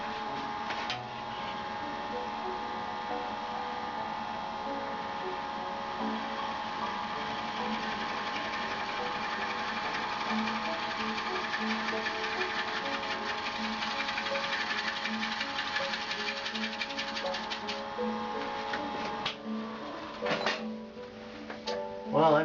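A wood lathe spins at 340 RPM as a turning tool cuts the piece, giving a steady mechanical hum with a grainy scraping texture throughout, with a few soft knocks near the end.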